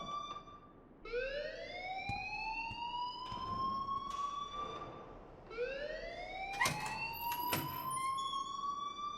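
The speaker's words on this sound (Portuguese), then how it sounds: "Não aguento mais ouvir esse alarme" In the video game Life is Strange, a fire alarm wails with rising electronic sweeps that repeat twice, with sharp clicks and knocks scattered over it, fairly faint and with no talk.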